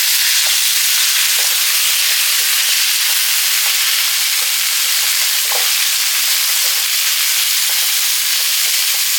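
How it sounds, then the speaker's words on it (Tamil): Chana dal frying in hot oil in a pan for a chutney, with tomatoes being added: a steady, close, dense sizzle with faint scraping stir clicks throughout, no voices. "இப்போ இந்த ஸ்டேஜில் வந்து ரெண்டு தக்காளி கட் பண்ணி வச்சுருக்கேன் அதையும் போட்டுக்கலாம்"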